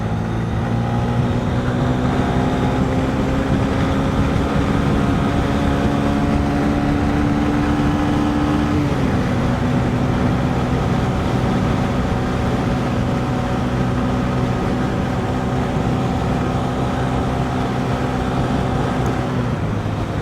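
A Honda CB125F motorcycle fitted with an iridium spark plug pulls hard in third gear, its engine drone loud and close and climbing slowly in pitch, with one brief dip partway through, no voices over it.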